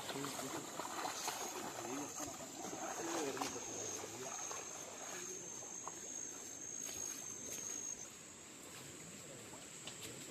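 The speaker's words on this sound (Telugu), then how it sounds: "పక్కన ఒక కాలు ఉంది, అందులో నీళ్లు ఫోర్స్ గా వెళ్తున్నాయి" Water rushing forcefully along a forest canal beside a waterfall trail in Goa, a steady close wash of flowing water, with faint insect chirps in the background.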